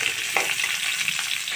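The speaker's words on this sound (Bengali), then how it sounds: "তো আমার এই যে পটলটা একটু ভাজা ভাজা হয়েছে" Potatoes and pointed gourd fry together in a pan of oil for a fish curry, a steady bright sizzle with a few soft stirring scrapes, close and continuous with no voices.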